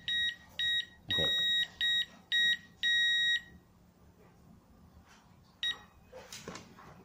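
An RF strobe siren alarm gives a rapid series of loud electronic beeps of uneven length for about three seconds, then quiet with one more short beep and some faint handling noise.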